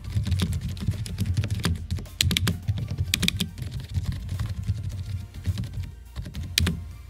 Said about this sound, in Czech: jedná se o membránovou klávesnici